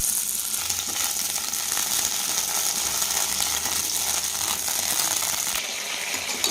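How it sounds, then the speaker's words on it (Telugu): Green chilies frying in oil in a pan for a village-style cucumber chutney and okra stew: a steady, close hiss of sizzling that carries on evenly throughout with no talking. "దీంట్లో కాస్త ఆయిల్ వేసుకొని వేయించుకుందాం"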